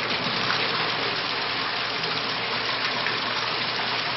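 Water streams steadily from a Navigator thermostatic mixing valve turned down to an eye-wash flow rate, a close, even, continuous rushing gush with no voices.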